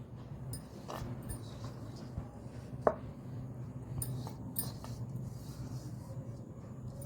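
Dry-fried onions pounded in a stone mortar for fish curry, a single sharp thud standing out among soft, muffled knocks over a steady low hum.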